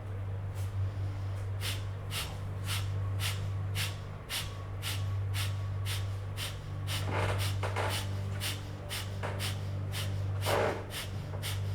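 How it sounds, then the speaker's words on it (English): Rapid, rhythmic breath of fire during a Kundalini yoga class: quick, sharp nasal exhales pulse in a regular train, close and distinct over a low steady hum. "we're going to begin breath of fire"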